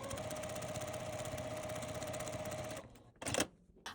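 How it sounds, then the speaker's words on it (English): A sewing machine runs steadily while stitching a fabric strip onto a pillow piece with a quarter-inch seam, a fast, even hum that cuts off near the end and is followed by a brief clunk and handling. "I'm just going to sew using a 1/4 inch seam allowance"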